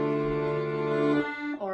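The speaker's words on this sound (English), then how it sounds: "So there are lots of different sounds that you can get playing the accordion." Accordion played with a sad sound: a brief, sustained reedy chord that holds steady and then shifts and fades near the end, close and moderately soft with no voices.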